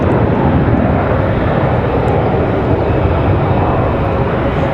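Airplane rolling on the runway after touching down at Raleigh-Durham airport, a loud, steady engine roar and rumble filling the whole stretch without talk.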